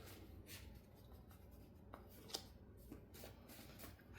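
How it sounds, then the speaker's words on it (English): A deck of playing cards being shuffled in a quiet room, a series of soft riffles and snaps at an uneven rhythm, close and fairly faint, with no voice over them. "let's go ahead and shuffle these cards"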